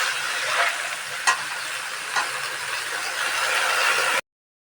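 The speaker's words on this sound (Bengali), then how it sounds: "এবার আমি শাক দিয়ে দিচ্ছি।" Leafy greens dropped into hot spiced oil, a loud, dense, close sizzle that holds steady with a couple of stirring knocks before cutting off abruptly.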